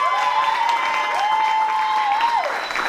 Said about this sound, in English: So how about a round of applause for that?